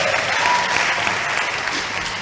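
A crowd of workers applauds at a workers' meeting, a dense, steady burst of many hands clapping that stays loud for the whole stretch, with no talk over it.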